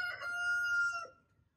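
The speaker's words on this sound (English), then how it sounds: "this is the thing about roosters." A single rooster crows once, clear and fairly close, its call trailing off into quiet.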